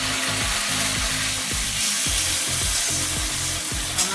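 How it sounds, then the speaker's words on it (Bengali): Garlic, ginger and chili paste fry in a pan for a Bengali khichuri meal, giving a loud continuous sizzle with regular scraping strokes from a spatula stirring the paste. "রসুন বাটা, আদা বাটা, লঙ্কা বাটা। দিয়ে মশলাটা কষে নেব।"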